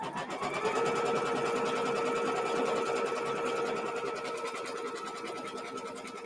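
A steady, close drone from an embroidery sewing machine as it stitches out a quilt block. Fast needle rattling runs continuously at an even, fairly loud level with no voices.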